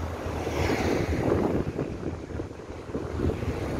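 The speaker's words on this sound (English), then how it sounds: "Beautiful breezes." Sea breeze and surf at Karon Beach in Phuket, a steady washing roar of waves mixed with gusty wind rumbling against the microphone, continuous and fairly close with no voices.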